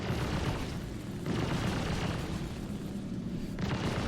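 Continuous roaring, crackling impacts of a spaceship taking weapon fire in the Star Citizen video game, dense and loud throughout with slight swells, no speech.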